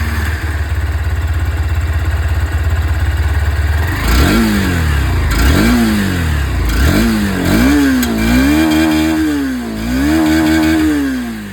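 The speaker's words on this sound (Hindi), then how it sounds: "अब एक बार इसकी जो इंजन की आवाज़ है वो भी मैं आप लोग को सुना दूँ" 2024 Honda CB200X motorcycle with its stock exhaust, idling steadily then revved in several sharp rising-and-falling bursts before settling into a wavering, throbbing engine note, close and loud with no talk.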